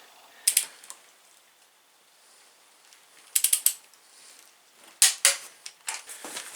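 A ratchet wrench tightens engine bolts to a first torque of 35, heard as short bursts of quick clicking pawl ratchets separated by quiet pauses, close and crisp.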